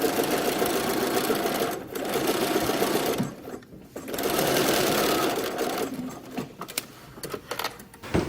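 Sewing machine running basting lines through the caps of two garment sleeves, a steady fast mechanical whir in several long runs with short pauses between them, close and loud with no talking.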